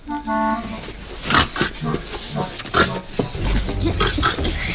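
Pig grunts and oinks in short bursts, close by, mixed with a busy background of other noises and some voices.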